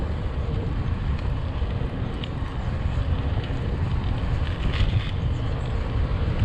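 Constant wind buffets the microphone in a low, steady roar with no pauses or voices, on a bike ride along the coast of Aruba.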